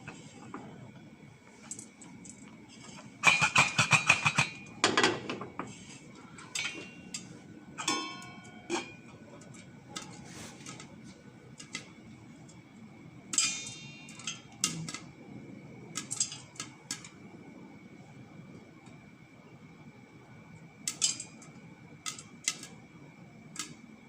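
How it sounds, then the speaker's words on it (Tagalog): Intermittent rattling and clattering of a cooking pot being shaken while popping popcorn, with bursts of shaking and scattered small taps and pops against a quiet background. "Shake natin ang kaldero."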